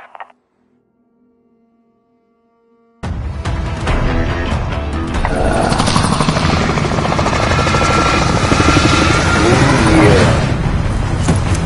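Helicopter in Call of Duty Warzone starting up abruptly after a near-silent lead-in, then a loud, heavy rotor roar that holds and builds slightly before easing off.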